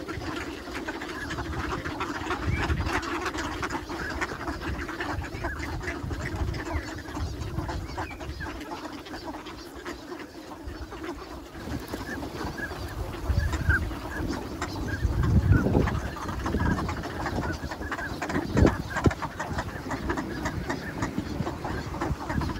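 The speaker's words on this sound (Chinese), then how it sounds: "那鸭子全部一起叫， 这个声音还蛮惊人的。" A large flock of wintering ducks calls together at Lake Inawashiro, a dense continuous chorus of quacking heard from a distance, steady with a few louder swells.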